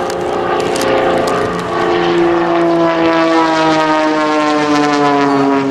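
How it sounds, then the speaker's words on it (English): A propeller aerobatic plane at an airshow runs at full throttle in a nose-down dive. Its engine drones loud and steady, with the pitch slowly rising and sliding as it races close by. "As he pushes that nose down and runs that throttle all the way up, that plane's going to rack up to close to 180 as fast as he can get it"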